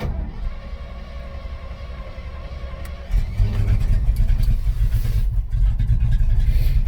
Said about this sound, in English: All right, we're in the dump truck.